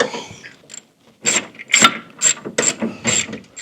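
A ratchet wrench clicks in quick bursts as it tightens nuts on bolts during engine hook-up on an International Scout restoration, a few loud close ratcheting runs separated by short pauses.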